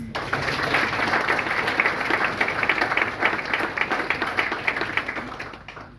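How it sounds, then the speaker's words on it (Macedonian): Audience applause at a book launch for a monograph: sustained, dense clapping from a seated crowd, steady and fairly loud, fading slightly at the end. "Ви молам за уште еден аплауз."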